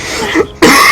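A single sharp cough bursts out loud and close at the end of a short, breathy throat sound, with a brief hush before it.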